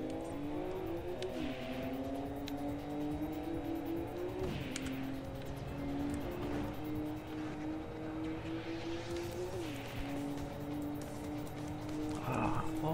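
Cars race in Import Tuner Challenge, one of them a Toyota Supra, engines droning steadily with rising and falling pitch and brief gear-change dips, a continuous close engine note.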